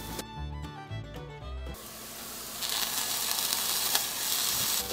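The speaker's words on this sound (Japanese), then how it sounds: "では返し終えたら弱めの中火にして蓋をして2分蒸し焼きします。" Chicken tsukune steam-frying under a lid in a pan over medium-low heat, a steady soft sizzle and hiss that grows slightly louder partway through, after a few brief clinks at the start.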